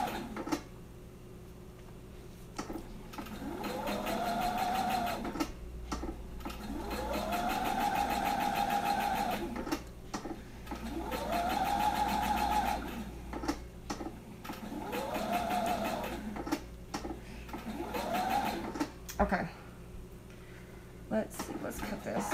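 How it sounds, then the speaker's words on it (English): A sewing machine stitches around the edges of felt cookie shapes in repeated bursts of motor whirring with short pauses between runs, while a person talks over it. "let me go ahead and stitch all the way around this one."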